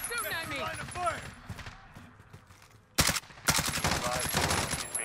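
Gunfire in Call of Duty Warzone, bursts of automatic fire landing amid a player's excited talk, with a louder volley of shots breaking in near the end.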